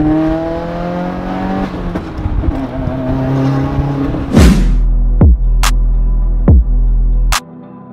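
A Subaru WRX with a catless downpipe and Tomei exhaust revs and drones loudly, its pitch rising and falling. Sharp pops and short bursts follow as the throttle blips, and the engine then cuts off abruptly.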